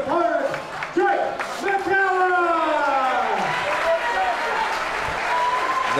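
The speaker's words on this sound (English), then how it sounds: "And a big round of applause for his opponent, Jake" A kickboxing crowd at a WKBF K1 light cruiserweight event applauds and cheers after the fight decision, steady loud clapping with whoops while an announcer's amplified voice carries over the top.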